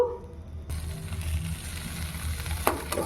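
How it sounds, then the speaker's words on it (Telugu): Young tamarind leaves sizzle steadily in a hot pan, a soft, even frying hiss that starts abruptly after a brief quiet moment and continues close up, with faint stirring clicks near the end. "ఫ్రై అయినిస్తాము ఆకు మొత్తం మగ్గనిస్తాము ఒక రెండు నిమిషాలు"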